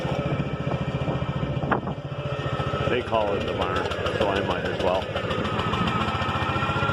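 A tractor engine runs with a steady low, throbbing idle near a gambrel-roofed shed, close and continuous beneath people talking.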